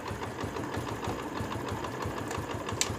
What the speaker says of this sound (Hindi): और बाइक को हम स्टार्ट करते हैं।